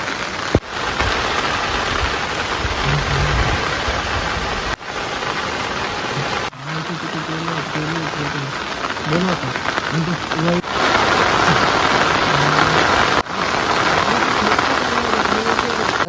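Heavy rain pours down steadily at a night campsite, a dense, constant patter on surfaces close by, with faint voices murmuring under the downpour at times.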